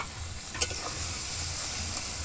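Chopped tomatoes go into a spice paste frying in a pan for Bengali rui fish curry, giving a steady low sizzle with a brief clatter of something dropping in, and no talk.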